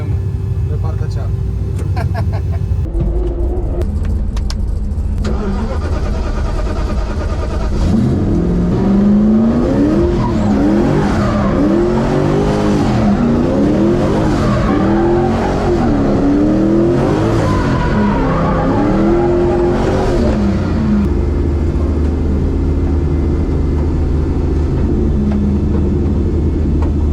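A car drifting in front of the Palace of the Parliament in Bucharest roars loudly as its engine revs hard and tires squeal in long wavering screeches, with a voice heard early on before the engine settles.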